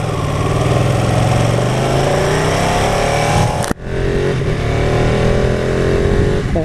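Ducati 959 Panigale sportbike engine heard while riding, a loud continuous drone with rising pitch that breaks sharply midway, as on a gear change, then builds again.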